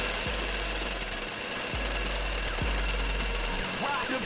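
A mining drill in the video game ArmA 3 runs as a steady, dense mechanical grind with a low hum underneath and a few faint thumps, continuous and fairly loud throughout, with no talk.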